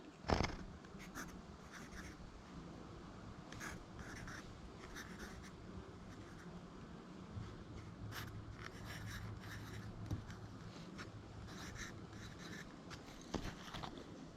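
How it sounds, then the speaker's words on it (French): Pen writing a date on a pollen sample container during beehive pollutant sampling, a soft continuous scratching and rubbing at close range with a few brief louder ticks, no talking. "il me reste à écrire la date"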